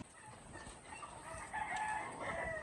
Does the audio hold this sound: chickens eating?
yes